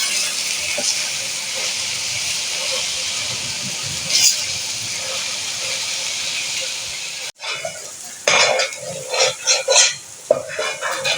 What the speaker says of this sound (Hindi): तो इसको मैंने ये फ्राई कर लिया 5 मिनट अच्छे से